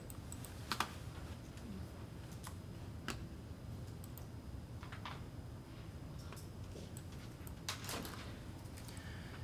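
Quiet keystrokes tapped on a computer keyboard, a sparse irregular series of light clicks with pauses between them, close and faint over a low room hum.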